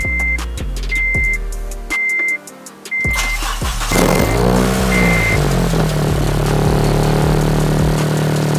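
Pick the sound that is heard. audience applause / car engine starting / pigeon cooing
car engine starting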